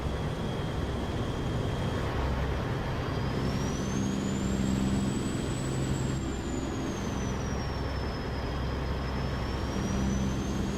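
American Truck Simulator truck driving on snowy Canadian roads, engine droning steadily while a retarder engages with a smooth, wavering whine rising and falling over the constant rumble.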